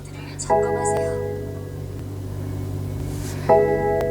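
A BMW 3 Series imported from South Korea with about 19,000 km on it turns over and catches into a steady, droning idle, then surges again in a second rev near the end.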